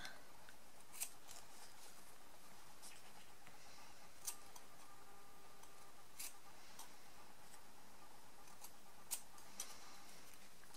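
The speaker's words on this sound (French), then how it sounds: "On peut couper les grands fils qui pendouillent." Scissors snip loose yarn threads while making a pompom Christmas tree craft, giving a handful of short, sharp cuts spaced a second or more apart against a quiet background.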